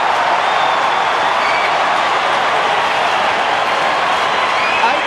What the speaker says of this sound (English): There's a big roar about to come up here at the Sydney Cricket Ground if Tony Lockett can get his 8th goal.